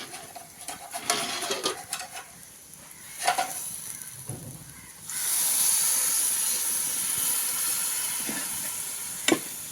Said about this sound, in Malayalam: നമ്മൾ കുറച്ച് ചൂടുവെള്ളം ഒഴിക്കാൻ പോവാണ് കേട്ടോ